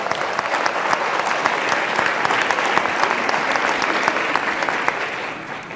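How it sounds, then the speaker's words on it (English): A university graduation audience gives musicians a steady round of applause, many hands clapping evenly for several seconds before thinning near the end, with no one speaking. "A round of applause for our musicians"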